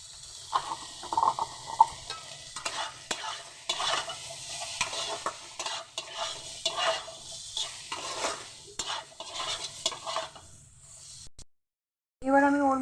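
Tomatoes fry and get stirred in a pan for a potato and broad bean curry, a steady close sizzle broken by repeated scraping and tapping strokes of a spoon, ending after a brief silence in a louder burst.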